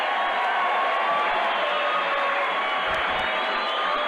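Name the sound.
boxing crowd roaring for Benny the Jet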